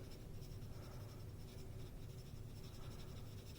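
A pencil held sideways shades across paper in continuous soft scratchy strokes, close and quiet, with no talking.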